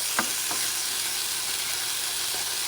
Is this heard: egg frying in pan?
yes